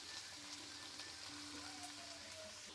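Chopped onions and capsicum frying in a pan, a faint, steady sizzle with light crackles that runs evenly throughout, with no talk.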